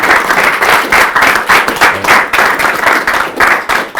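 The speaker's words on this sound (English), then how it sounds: "let's give Oliver a big round of applause" An audience gives a speaker a big round of applause at a founder spotlight event, dense steady clapping filling the room at close range with no talk over it.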